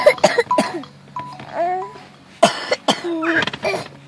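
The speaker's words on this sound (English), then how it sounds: "You like when your sister coughs." A young girl coughs in several short, close bursts, with a voice babbling and laughing between them.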